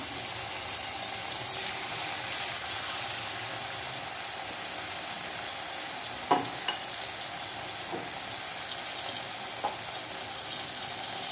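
Thin chicken slices frying in a pan, a steady, even sizzle with a couple of soft knocks from the pan, close and continuous, with no talking.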